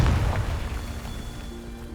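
A Confringo fire spell explodes in Hogwarts Legacy, a loud booming burst at the start that rolls off into a decaying rumble with a faint lingering hum.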